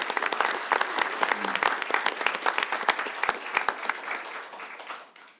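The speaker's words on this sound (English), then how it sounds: "One more big round of applause." An audience at a city council meeting breaks into sustained clapping, a dense burst of many hands that fades out after several seconds.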